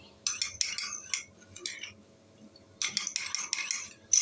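Metal spoon scraping and clinking in a pan while colored suji halwa is stirred, two bursts of close, bright scraping separated by a quieter pause.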